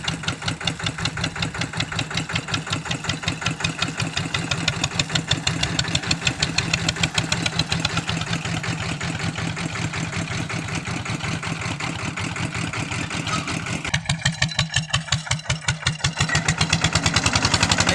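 An RT90 farm tractor engine running at idle, a loud, steady, close rhythmic diesel chugging that continues throughout with a slight change in tone near the end.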